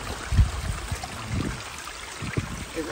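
Hot spring water flowing and trickling nearby, a soft continuous babble with a few gentle gurgling bursts, fairly quiet and without talk.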